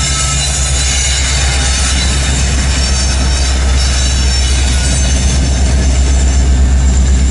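BNSF locomotive 9183 hauls a loaded coal train west on the transcon line in Lincoln, Nebraska, a loud, continuous, close roar of engine and rolling wagons with high wheel squeal over it.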